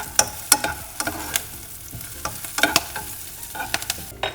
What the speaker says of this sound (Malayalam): ചെറുതായിട്ട് നമ്മൾ അതിനകത്തേക്ക് നമ്മുടെ വറ്റൽമുളക് ഇടുകയാണ്.